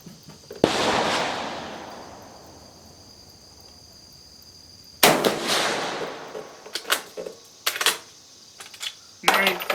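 Two loud outdoor blasts from a Carcano M91/24 rifle, each a sharp crack followed by a long fading rumble, the second shot trailed by several quick clicks and clacks of the bolt being worked.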